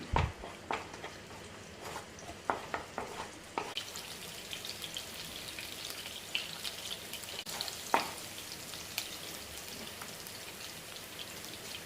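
Chopped ginger, garlic and a small green chili sauté in a pan for chilli gobi, a soft, steady sizzle and crackle broken by light, irregular spatula clicks and taps, quiet and close.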